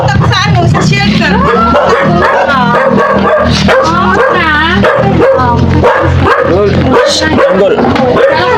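A dog barks and yips repeatedly among people talking loudly nearby, the short sharp barks and whimpers scattered through the chatter.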